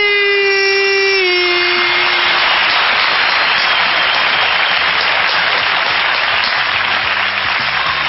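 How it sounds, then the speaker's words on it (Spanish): A studio audience bursts into loud, sustained applause that fills the room, opening with a brief rising tonal sweep before the clapping takes over and continues steadily. "recibimos con un fuerte aplauso al doctor Jorge Rashid"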